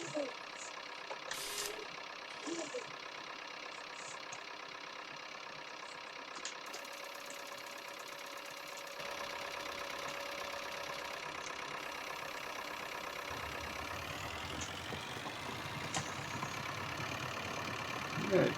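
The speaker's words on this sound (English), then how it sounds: "It is a nice tractor to drive on." A farm tractor engine runs steadily throughout, a continuous mid-pitched idle and drone that grows a little heavier and louder partway through, with no talk over it.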